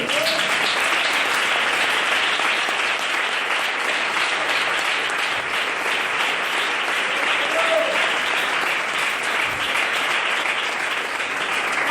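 A large church congregation applauds continuously, a dense, steady wash of clapping that holds at full strength the whole way through.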